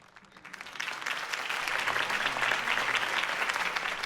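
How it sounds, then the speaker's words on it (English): A video game crowd, in Batman: The Telltale Series, applauds steadily, the clapping swelling in over the first half second and then holding at a dense, loud level. "If only Mr. Wayne, my campaign's largest backer, could have heard that applause"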